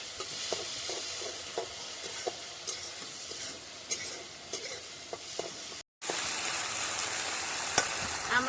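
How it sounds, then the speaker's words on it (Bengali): Prawns with garlic and chili fry in a pan, a steady loud sizzle broken by scraping stirs and a brief pause before the hiss returns even stronger. "আমরা এটাকে একটু ভাজা ভাজা করে নিই।"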